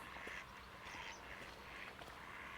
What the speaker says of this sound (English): Plenty of ducks about.